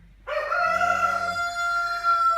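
A small golden rooster crows once loudly and close by, a single long harmonic call that holds steady to the end of the clip.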